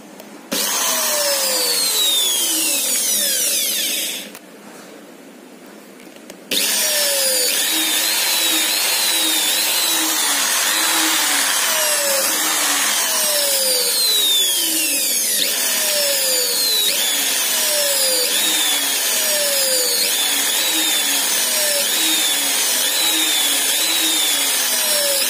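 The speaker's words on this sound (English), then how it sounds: "I just connected the drilling machine to the system" A high-pitched electric drill whines continuously, its pitch sweeping up and down, with a brief drop in level early on before resuming loudly.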